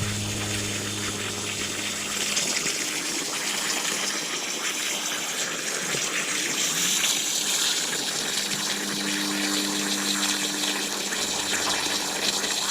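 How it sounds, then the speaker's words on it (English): Water gushes and sloshes steadily through a toy rock tumbler holding crusty pennies, a loud continuous rushing and splashing with a low pump-like hum underneath. "We've got some water out here. Let's see if we can flush this out a little bit."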